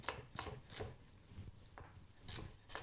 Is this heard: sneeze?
no